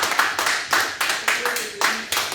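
Congregation in a church clapping hands in steady rhythmic bursts, loud and close, a regular beat of applause running the whole time.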